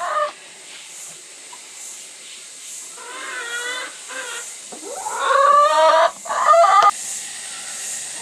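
Backyard chickens in a tropical setting cluck and chatter around feed, with several birds calling near the microphone over steady ambient insect hiss, growing busier and louder toward the end.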